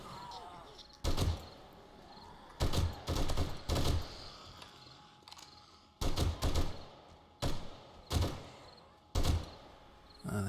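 Bursts of gunfire in the zombie survival video game 7 Days to Die, a weapon with an extended magazine firing in repeated loud volleys of sharp shots separated by short pauses, with faint background noise between bursts.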